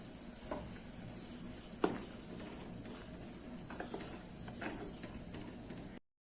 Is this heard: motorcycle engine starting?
no